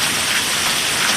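Steady, dense rain falls and patters on surfaces nearby, a constant hiss with no other sounds.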